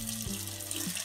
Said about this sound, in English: you open hot water, and you do your hand like that.